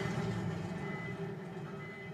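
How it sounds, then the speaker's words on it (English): Alarms blare in the Tales from the Borderlands video game, a steady electronic tone that repeats without a break over a low droning hum. "why are the alarms still going?"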